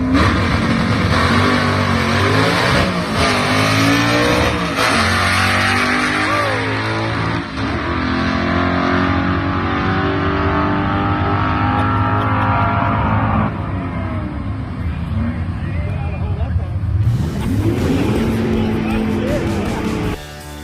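A Mustang drag car engine revs loudly and nearby in repeated rising and falling sweeps, then settles into a rough steady roar before one last sharp surge near the end.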